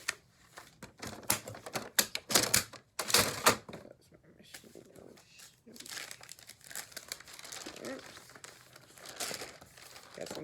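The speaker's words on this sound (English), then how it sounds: "So I am going to grab some paper." Sheets of paper and cardstock grabbed and handled at close range, loud crinkling and rustling bursts that thin into softer shuffling, with a voice talking over it.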